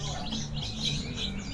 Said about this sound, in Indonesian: Terus di sini ada toet atau murai Papua.